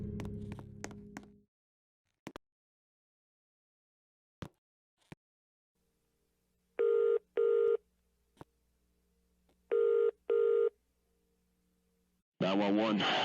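Phone call being dialed in a Roblox game: a few faint taps, then paired electronic dialing or ringing tones in two bursts separated by quiet, ending in a loud burst of sound.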